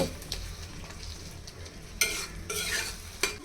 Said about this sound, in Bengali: এভাবে চুলায় আরও 5 মিনিটের মতো টমেটোগুলো ভেজে নিব।